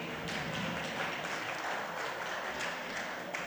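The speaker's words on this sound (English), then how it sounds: "So please welcome our keynote speaker with some applause." Audience applause at a leadership summit welcoming the keynote speaker, a steady, dense wash of clapping that holds evenly throughout with no voices standing out.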